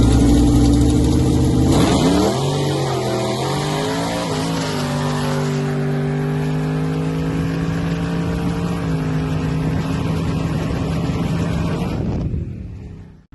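Race car engines roar and rev up, pitch climbing through the gears as the cars accelerate past, loud and sustained before cutting off abruptly.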